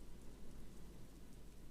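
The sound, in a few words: rain falling in the video game Disco Elysium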